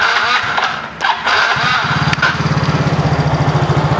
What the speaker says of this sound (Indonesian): motor alhamdulillah udah hidup